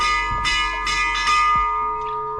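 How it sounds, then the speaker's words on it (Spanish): A bell at an open-air museum in Orleans, Santa Catarina, Brazil, struck repeatedly by visitors, giving several loud ringing strokes with long overlapping resonance and no talk. "los compañeros se pusieron a jugar con la campana"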